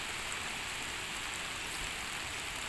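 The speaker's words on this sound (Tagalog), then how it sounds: "Umulan na po." Steady rain falls outdoors near a snake's burrow in a mound, a soft continuous hiss with no voices.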